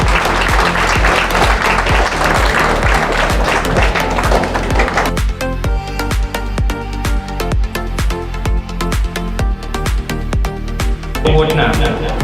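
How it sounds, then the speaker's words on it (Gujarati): An audience at an advocates' function in Vastral applauds steadily and loudly for several seconds, then the clapping shifts under a strong, regular rhythmic beat of music. "તાળીઓ કન્ટિન્યુ રાખજો."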